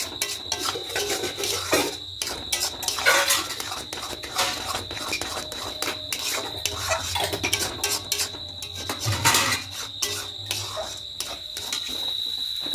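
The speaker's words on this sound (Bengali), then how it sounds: "দিয়ে এইভাবে করে নাড়তে থাকবো।" Semolina and coconut mixture stirred in a pan, repeated dry scraping and rubbing strokes in an irregular rhythm over a steady high background hum.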